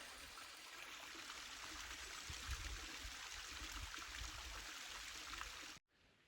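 A small waterfall in the 100 Mile Wilderness, running low, gives a faint, steady rushing trickle heard from nearby, continuous with no voices, then stops abruptly at the end.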